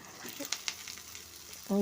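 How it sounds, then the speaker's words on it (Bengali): Soft sizzling of onions and potato frying in a pan, with a few light clinks of stirring and a brief louder sound at the end. "পেঁয়াজগুলোকেও ভালো করে ভেজে নিচ্ছি আমি"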